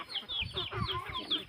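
Chickens cluck in quick, soft bursts close by, a short run of several clucks in irregular rhythm.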